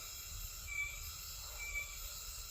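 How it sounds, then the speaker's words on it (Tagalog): In the evening, crickets chirp with a faint, steady high trill that swells slightly twice, over a low background hum and with no one speaking. "parang narinig po natin na tingog ng mga gangis or kuliglig"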